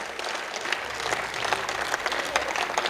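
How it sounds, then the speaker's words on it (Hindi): Open-air audience at Azad Chowk in Bhilwara gives a young poet a steady round of moderately loud, continuous applause, heard alone without talk. "एक बार मिलकर आप सभी तालियां बजाइए।"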